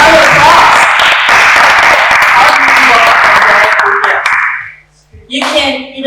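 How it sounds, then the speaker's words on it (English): Loud, close applause from a festival panel audience rewarding a volunteer, a dense burst of clapping that fades after about four seconds, followed by a voice speaking. "let's give her a round of applause."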